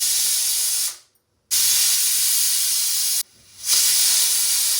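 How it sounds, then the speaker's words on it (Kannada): Pressure cooker whistling while mutton gravy cooks, two loud sustained hissing steam blasts with brief quiet gaps between them, close and alone. "ಇನ್ನು ಇವಾಗ 5 ವಿಷಲ್ ಆಗಿದೆ."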